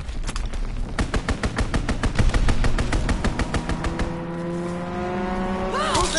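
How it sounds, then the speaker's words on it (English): An enemy strafing run in a PS4 video game: loud, rapid machine-gun fire rattles in a steady stream over engine rumble for about four seconds, then fades into droning engines and whooshing sounds. "Enemy strafing run inbound."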